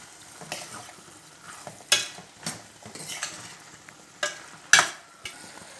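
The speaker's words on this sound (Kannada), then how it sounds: "ಈಗ ಚೆನ್ನಾಗಿ ಮಿಕ್ಸ್ ಮಾಡಿದ್ದನ್ನೆಲ್ಲ" Spice mix of fenugreek, cumin, turmeric and sambar powder in a frying pan for a patla kayi palya, stirred with a spoon that scrapes and knocks in sharp separate strokes over a soft sizzle, close up.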